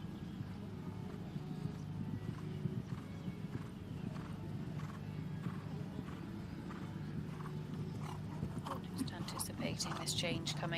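A horse's hooves clip-clop in a steady rhythmic gait across an arena during an eventing dressage test, set against a constant low background rumble, with hoof strikes growing sharper near the end.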